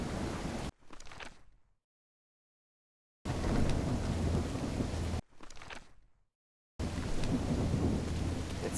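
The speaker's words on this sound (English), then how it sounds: "It's raining cats and dogs here." Heavy rain pours and thunder rumbles in the video game Call of the Elder Gods, loud bursts of downpour broken by abrupt silences and brief fading rumbles, with no voices.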